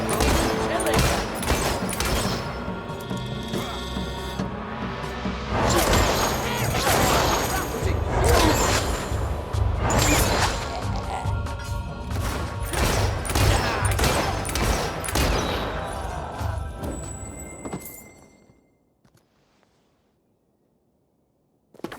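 Gunfire rips through a fight in the video game Fable 3, dense overlapping bursts and shots with booms for about eighteen seconds before cutting to near silence, with shouting voices mixed in.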